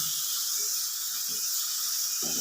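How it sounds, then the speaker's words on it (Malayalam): Grated beetroot for a Kerala-style thoran hisses and crackles in hot oil as it is stirred, a steady bright sizzle with a few soft scraping knocks underneath. "ബീറ്റ്റൂട്ട് എണ്ണയ്ക്കകത്ത് മിക്സ് ഒന്ന് നന്നായിട്ട് ഒന്ന് മിക്സ് ചെയ്യുക ഇളക്കി കൊടുക്കുക"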